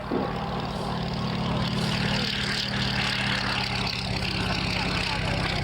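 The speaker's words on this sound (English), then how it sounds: "Very elegant Pegasus engine churning away at the front there." Aircraft with a Pegasus radial engine flying at the Shoreham Airshow, its steady droning churn continuous and fairly loud, with a commentator talking over it.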